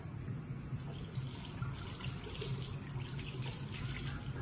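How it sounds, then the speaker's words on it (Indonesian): Tap water runs continuously into a sink as hands are washed beneath it, a steady close splashing rush with small irregular spatters throughout. "Cuci tangan dengan air mengalir dengan menggunakan 6 langkah"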